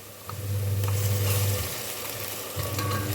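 Ground masala paste hitting hot oil in a pan while cooking paneer pulao, giving a steady loud sizzle and crackle with some stirring, with no talking over it.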